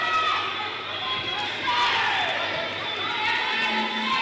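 A boxing crowd roars and cheers steadily throughout a fight, dense and sustained with scattered shouts and whoops rising from the mass of voices, no single speaker standing out.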